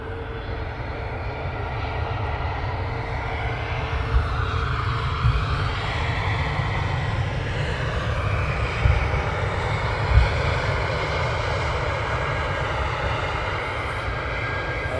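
A Wizz Air jet airliner at London Luton Airport produces a steady, loud engine roar that holds for the whole stretch, with faint wind buffeting and slight shifts in tone as it moves.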